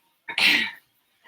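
A single short, forced fake cough, a sharp breathy burst under a second long, is heard during an indoor spin class.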